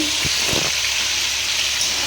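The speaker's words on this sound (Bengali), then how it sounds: "আমি আগে এই মাছগুলো ভেজে ফেলি" Fish fry in hot oil in a pan on a home stove, giving a constant loud sizzle with a few sharper spatters near the start, close and without talk.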